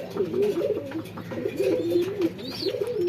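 A sick pigeon coos softly and repeatedly in low, rolling phrases, close by and alone against quiet background noise.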